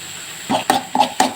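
A spoon stirring an egg and chicken masala mixture in a pan gives a few soft, close scraping strokes about a quarter second apart over a faint steady sizzle.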